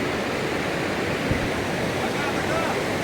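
A river flows through hilly country in the Dooars, with a dense, steady rush of water that stays close and constant, carrying no distinct splashes.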